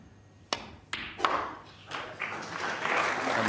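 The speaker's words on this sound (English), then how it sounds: "His family applaud as well." Snooker audience and the player's family at the Crucible applauding a century break, a few sharp claps at first, then swelling into steady, sustained applause from the packed hall.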